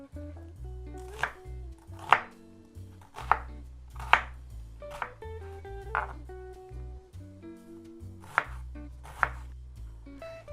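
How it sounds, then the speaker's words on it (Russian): A knife chops an onion into small cubes on a cutting board, in a series of sharp, distinct knocks with uneven spacing, close and fairly loud, alone with no talking. "займусь нарезкой лука. Значит, в этот раз мы лук не будем обжаривать"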